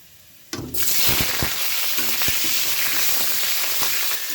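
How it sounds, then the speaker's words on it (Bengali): Cauliflower pieces dropped into hot oil burst into a loud, sudden sizzle that then holds as a steady, close frying hiss with occasional pops and stirring clatter. "সবার প্রথমে ফুলকপিটাকে একটু ভেজে নেব"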